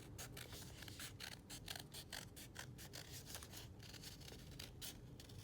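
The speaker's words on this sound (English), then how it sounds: "I like keeping my scissors in one spot and turning the paper as it needs to cut" Scissors snip through paper in quick, repeated cuts, a quiet, steady rhythm of crisp snips up close, the scissors held in one spot while the paper is turned to cut a Celtic knot.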